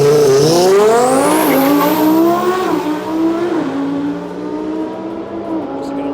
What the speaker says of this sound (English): the fastest Lamborghini in Europe coming up now